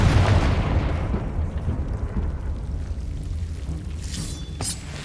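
A Confringo fire spell exploding in Hogwarts Legacy: a loud, deep boom bursting at the start and rolling into a long rumbling decay, with a brief bright crackle near the end.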